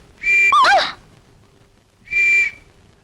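Two shrill whistle blasts, a comedy film effect of a swallowed whistle, sound loud and close, the first with a warbling pitch and the second steady, separated by a short pause.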